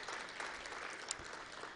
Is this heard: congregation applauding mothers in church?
yes